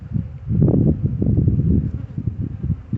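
Honeybees buzzing on a hive frame during a spring hive check, a close, dense low drone with fluctuating swells, no talk over it.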